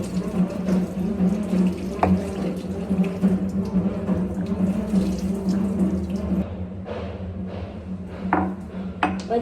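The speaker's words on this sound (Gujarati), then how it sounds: "રસોડામાં કોઈ ફેસ વોશ કરે પણ તમારા માટે થઈને હું કરું" Kitchen tap running steadily into a sink while someone washes their face, a close continuous rush of water with a few brief clinks and splashes near the end.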